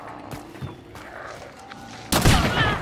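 Martini rifle firing explosive rounds in the video game Hunt: Showdown, a few distant muffled shots followed by a sudden loud close blast that rumbles on to the end.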